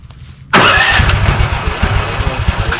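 Small engine on a Jansen wood chipper cranking on the key and catching at once, then running at a rough, throbbing idle, close and loud.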